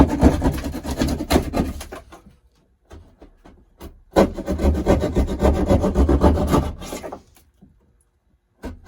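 A drywall knife cuts through drywall around a traced outline, giving scratchy, rasping strokes in two bursts separated by a brief pause, close and fairly loud with no talking.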